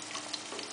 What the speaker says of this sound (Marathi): 3 हिरव्या मिरच्या, त्या सतळून घ्यायच्या आहेत।